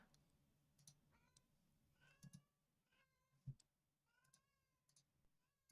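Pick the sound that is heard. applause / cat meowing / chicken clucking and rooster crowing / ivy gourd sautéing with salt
cat meowing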